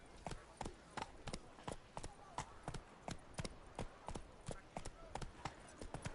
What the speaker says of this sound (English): Do you see a horse with golden armor running right at you?